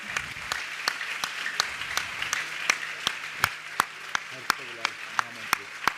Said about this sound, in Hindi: ताली एक बार बहुत जोर से, श्री गुरुदेव के चरणों में